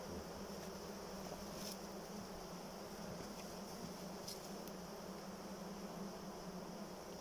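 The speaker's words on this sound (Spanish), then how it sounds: "Tienen mucha abeja." A steady, dense buzz of many honeybees around a relocated swarm's hive surrounds the listener, continuous and close with no voices.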